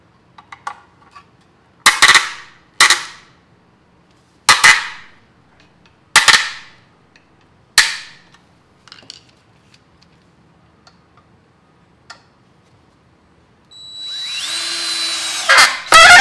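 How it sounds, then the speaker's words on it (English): A cordless power screwdriver drives screws into a 3D printed winch robot during assembly, giving five or six loud, sharp bursts with short decaying tails and pauses between them, followed by a longer whirring run near the end. "I really need my longer bit for this screwdriver."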